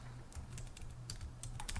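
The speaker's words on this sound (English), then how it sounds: "I have a keyboard that has a malfunctioning O key, and sometimes I accidentally type O." Someone types on a computer keyboard with a malfunctioning O key, giving a quick, irregular run of close, quiet clicks over a low background hum.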